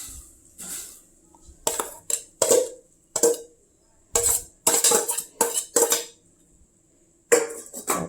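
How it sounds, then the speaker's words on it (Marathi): A metal spoon clinks and scrapes against a pot as grated carrot goes into hot milk for carrot halwa, in sharp, irregular bursts separated by short quiet gaps, close and with no talking. "तर आता या गरम दुधामध्ये गाजराचा खीस घालूया"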